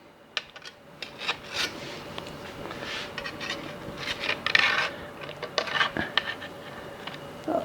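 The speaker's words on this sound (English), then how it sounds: "I'm going to take my spatula and I'm going to cut into the Mexicali Pie." A spatula cuts into a Mexicali pie of chili, cheese, corn and cornbread in a kitchen, giving soft, irregular scraping and rubbing against the dish with occasional light clicks, fairly close and quiet.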